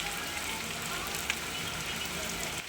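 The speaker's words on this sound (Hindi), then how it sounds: "आप लोग देख सकते हैं कितना बारिश हो रहा है" Heavy rain falls in a steady, faint hiss of water striking surfaces, with no break through the short stretch.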